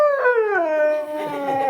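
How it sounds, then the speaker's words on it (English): A dog howls in one long, loud, close, sliding tone that drops in pitch and then holds steady, with no talk over it. "that's lousy howling"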